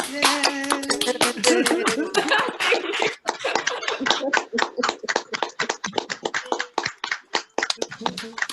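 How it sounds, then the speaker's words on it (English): Scattered clapping from a few people over a video call after a string quartet performance, thin and uneven, mixed with chatter and light laughter, sounding slightly compressed. "Maybe we could all unmute and clap for the wonderful music we just heard"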